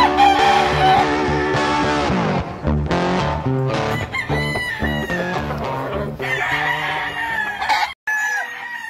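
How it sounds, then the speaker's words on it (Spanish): Gamecocks at a breeding farm crow loudly and continuously, several roosters overlapping in long, drawn-out calls with no gaps across the whole stretch. "Dorian, esos son los pollos del..."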